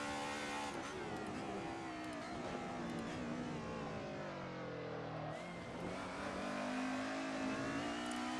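A 1990s DTM touring race car in a racing video game, lap at the A1-Ring, its engine revving hard and climbing steadily through the gears, loud and continuous with a brief dip midway.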